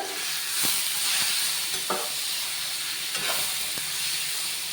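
Grated ash gourd tipped into a hot pan of ghee for Kashi halwa, frying with a steady close sizzle and hiss and a few soft stirring scrapes, no voices.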